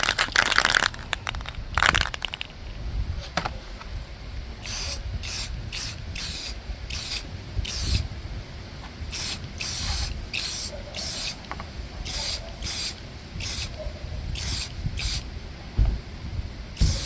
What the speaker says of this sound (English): Just be using a little bit of Rust-Oleum Ultra Cover Paint and Primer